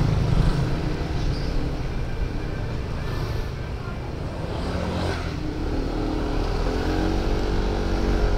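A motorcycle rides along a road, its engine droning steadily under heavy wind buffeting throughout, with faint passing traffic noise.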